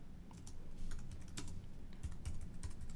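Quiet, quick tapping on a computer keyboard, irregular keystrokes clustered in short bursts, close by with no talking.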